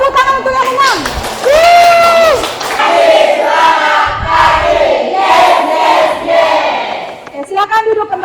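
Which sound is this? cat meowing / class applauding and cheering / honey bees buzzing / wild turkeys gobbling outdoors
class applauding and cheering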